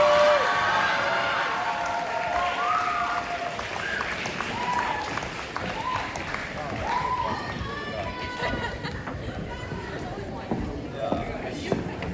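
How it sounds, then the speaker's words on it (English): A banquet crowd at a school sports event gives a sustained round of applause, with dense clapping filling the room and voices talking over the start. "Let's give them a round of applause."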